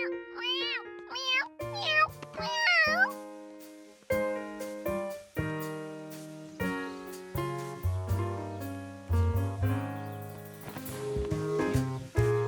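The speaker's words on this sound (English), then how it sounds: "a cat!" A few high, wavering cartoon cat meows at the start, then plucked melodic tones carry on alone in a steady, bright pattern.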